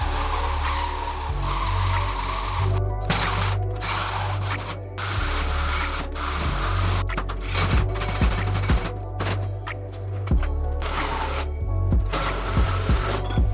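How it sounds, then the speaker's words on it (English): A 100mm carbide hole saw grinds through aluminium sheet with a loud, continuous metallic drone, scraping and intermittent squeals, heard close up throughout. "To cut the holes, I found a 100mm carbide hole saw for cutting stainless steel on Amazon."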